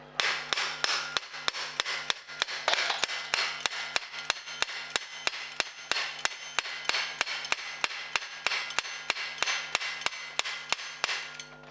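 Hammer taps driving the spindle out of a Profile Racing Elite BMX crank arm, a steady run of sharp, evenly spaced metallic knocks, close and clear, repeating about three times a second with no talk.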